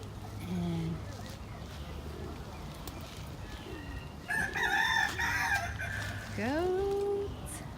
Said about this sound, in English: They have chickens.